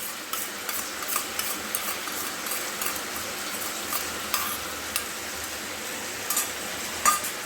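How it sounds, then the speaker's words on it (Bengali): Salted chicken is stirred together with onions in a hot pan, giving a soft continuous sizzle with scattered scraping taps of the spoon against the pan, close up and without talk. "এবার চিকেনটা ভালো করে পেঁয়াজের সাথে মিশিয়ে দেব।"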